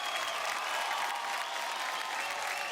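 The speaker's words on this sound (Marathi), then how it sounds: "जोरदार टाळ्या होऊन जाऊ द्या माधुरीसाठी" On a Marathi TV dance show, a studio audience claps steadily and evenly for Madhuri after her performance, with a faint crowd murmur underneath and no voices.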